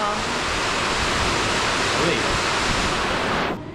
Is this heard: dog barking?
no